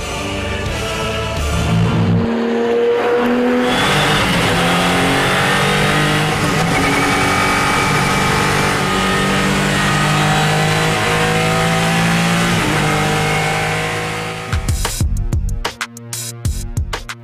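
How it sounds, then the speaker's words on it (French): Peugeot 407 Silhouette concept car driven fast, its engine roaring loudly and steadily through long revs with shifting pitch, ending in abrupt choppy bursts as the car passes close by. "Le concept Peugeot roule vite,"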